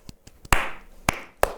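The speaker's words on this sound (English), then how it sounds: "Do baseball claps." A handful of sharp, separate claps from a small audience at a Christmas gaming show, a few soft taps and then three louder, spaced claps ringing briefly, with no talk.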